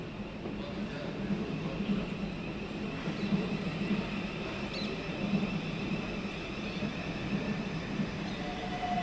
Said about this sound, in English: So whilst this Class 707 departs